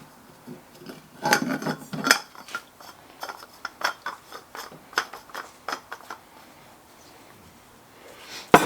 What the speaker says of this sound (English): and I put the pump in.